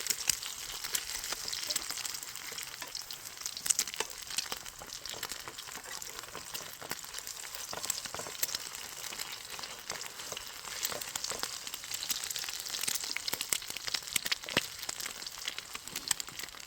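An egg fries in a pan over a Trangia 27 camping stove, giving a steady, close crackling sizzle with small pops that runs unbroken throughout, no voices.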